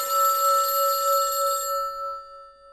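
A telephone bell rings steadily in a radio theatre play, a bright metallic trill held for about a second and a half before fading quickly into silence.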